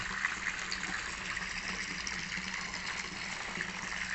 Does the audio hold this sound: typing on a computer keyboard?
no